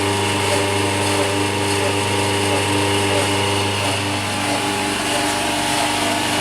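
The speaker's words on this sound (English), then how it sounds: "The noise down by the pump itself." A CamVac dust extraction system's pump runs close by with a loud, steady motor drone and constant hum, unbroken throughout.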